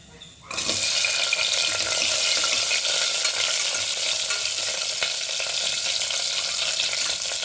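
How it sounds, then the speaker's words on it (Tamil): Ginger, garlic and shallots drop into hot tempering oil and erupt into a loud, dense sizzle that holds steady after a sudden start. "இஞ்சி பூண்டு சின்ன வெங்காயத்தை உரித்து வச்சுருக்கிறத இந்த தாளிப்பில் போட்டுடணும்"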